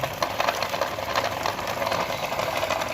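A motor-driven coconut grating and coconut milk press machine runs with belts and pulleys, giving a steady buzzing mechanical whir with quick rhythmic pulses, close and continuous.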